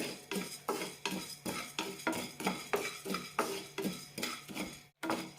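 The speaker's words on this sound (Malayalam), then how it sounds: "അരിയെല്ലാം പൊരിയാൻ തുടങ്ങിയിട്ടുണ്ട്" Washed and dried rice is dry-roasted in a pan with a spoon. Quick, rhythmic scraping strokes come roughly three a second, close and crisp, with a brief pause near the end and no talking.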